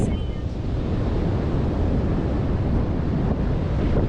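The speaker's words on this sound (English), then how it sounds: "The waves just go forever. Yeah, they never stop. And they're huge." Large ocean waves roll onto the black sand beach at Piha, New Zealand, as a dense, continuous roar mixed with heavy wind buffeting the microphone, with no gaps between the breakers.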